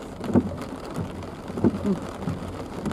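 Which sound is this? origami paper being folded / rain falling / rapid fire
rain falling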